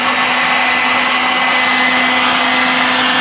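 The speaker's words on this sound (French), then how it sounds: "avec le décapeur thermique va chauffer légèrement pour que la gaine se rétracte et tienne bien" A heat gun blows a loud, steady close-up roar with a constant whine while shrinking heat-shrink tubing during lawnmower repair, unbroken and without talk.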